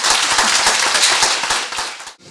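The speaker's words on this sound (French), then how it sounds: "on peut l'applaudir pour ça" Short burst of audience applause at a library event, dense sharp clapping close and loud, cutting off abruptly at the end.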